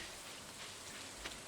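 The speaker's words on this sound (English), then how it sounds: "A warm rain is a pleasant way to get clean." Steady, faint rain falls in a video game, a soft, even hiss of drops with no clear break, one small brighter patter near the end.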